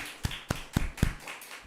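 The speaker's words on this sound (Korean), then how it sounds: "아직까지 교회 안 나오시고 모바일로 드린 분에게 박수 한번 칩시다." A church congregation claps during a Korean worship service, four sharp separate claps spaced about a quarter second apart, fairly faint over a quiet room.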